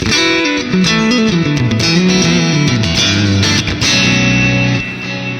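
A loud electric guitar through a Neural DSP Archetype: Gojira amp plugin plays a line of sustained notes, each ringing out with a washy reverb tail with its top and low end cut.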